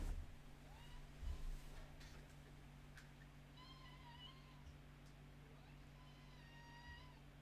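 A cat meows twice at moderate distance, two clear drawn-out calls a few seconds apart over a steady electrical hum and faint room noise, with a brief bump early on.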